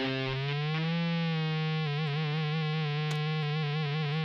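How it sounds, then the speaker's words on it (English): Electric guitar, somewhat out of tune, played through an Outlaw Effects Dead Man's Hand overdrive pedal, giving a loud, heavily distorted sustained chord that rings steadily with slight wavering throughout, no voices over it. "So much distortion."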